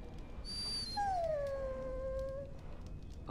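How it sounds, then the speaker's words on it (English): A dog whines in Dragon Age Origins, a long, clear, falling whimper that starts high and bends lower, close and loud over a faint ambient backdrop. "Bloody dog."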